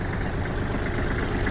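A tractor engine idles steadily with a soil tiller mounted on its quick-release hitch, a continuous broadband rumble holding an even, close, unbroken level with no voices.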